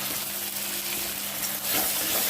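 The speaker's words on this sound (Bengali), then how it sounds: "সবটা খুব ভালোভাবে কষিয়ে নিচ্ছি" Dried chilli and garlic paste sautéing in a pan with chopped tomato for a Bengali fish curry, a dense continuous sizzle up close that swells louder toward the end.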